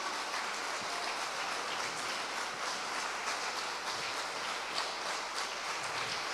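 A church congregation claps continuously in a dense, even wash of applause, sustained throughout without any speech.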